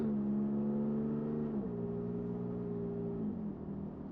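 A car pulls away from a stop sign and accelerates to about 3,000 RPM, its engine note climbing in distinct steps as it shifts, heard fairly quietly from inside the cabin.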